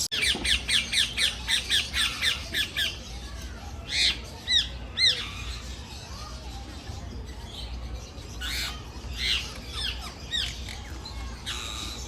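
A bird at Riyadh Zoo, standing on one leg, gives a rapid series of sharp, loud squawks, then after a pause several more harsh calls at intervals over a low background murmur.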